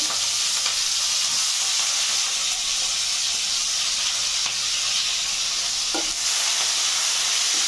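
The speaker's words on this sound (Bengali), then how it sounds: "এবার ভালোভাবে পেঁয়াজটা বাদামি কালার আসা পর্যন্ত ভেজে নেব" Chopped onions frying over medium gas flame in a pan while cooking duck meat, a continuous close sizzle and hiss with occasional scrapes and clicks of stirring.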